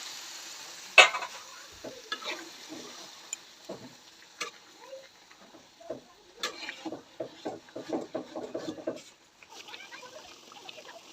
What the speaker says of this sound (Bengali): এইবার হালকা জল দিয়ে আর একটু কষাই।